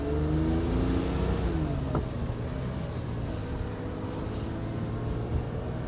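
Engine of a 1970 Porsche 911E Targa on the road, a steady droning hum heard from the passenger seat, with a gear change and the pitch settling into an even cruise, no talking.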